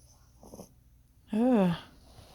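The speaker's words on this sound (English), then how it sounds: "Y'all hear him snoring?" A miniature dachshund gives a single loud, wheezy snore with a nasal rise and fall, preceded by a faint snuffle and soft breathing, heard close up in a quiet room.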